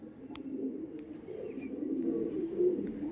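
A golden ice pigeon coos softly and continuously at close range, a low murmuring call that swells slightly toward the end, with a few faint clicks behind it.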